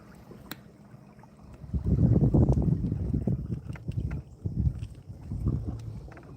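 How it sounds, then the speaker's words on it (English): Wind gusts rush over open water while out on a boat, low buffeting blasts rising and falling against the microphone, with faint knocks and splashes around the hull. "The wind blew me over here."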